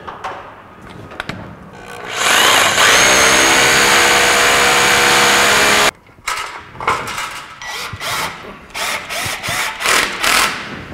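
A loud rotary hammer drilling into concrete hammers and grinds continuously for several seconds, stops abruptly, then resumes in shorter rough bursts with scraping and knocking.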